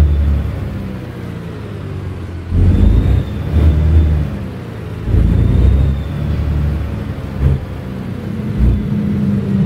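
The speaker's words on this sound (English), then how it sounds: "Definitely gonna have to do some more trucking with this truck." A big heavy truck drives in the American Truck Simulator game, giving a steady low engine rumble with swells of revving and acceleration at about 2.5 and 5 seconds, heard alone and fairly loud throughout.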